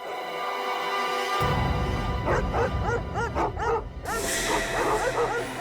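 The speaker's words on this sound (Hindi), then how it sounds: "कुत्तों के भौंकने की आवाज पीछे की तरफ से आ रही है" Several dogs bark and yip repeatedly in a rapid, overlapping chorus, fairly close, over a rumbling background.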